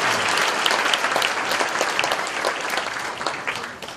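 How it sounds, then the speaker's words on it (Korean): An audience at a committee launch ceremony claps in a loud, dense burst of applause that tapers slightly toward the end, with no voices over it. "큰 박수"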